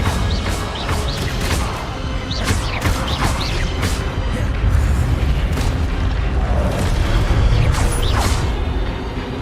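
Incendio fire spell cast in Hogwarts Legacy, heard as a sustained roaring, crackling blaze with repeated bursts and booming impacts, loud and continuous, no talk over it.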